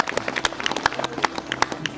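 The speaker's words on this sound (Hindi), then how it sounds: "सब ताली बजाएंगे यीशु मसीह के लिए।" Audience at a Christian healing service clapping for Jesus, a short burst of scattered, uneven hand claps from a crowd.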